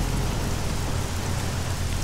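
Steady rain falls at night in the Arma 3 Altis Life game, a dense continuous hiss with no talk over it.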